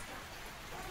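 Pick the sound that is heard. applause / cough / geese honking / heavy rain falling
heavy rain falling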